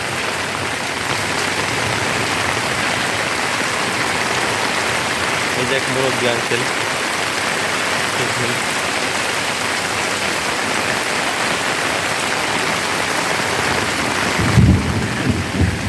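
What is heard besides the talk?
rain with thunder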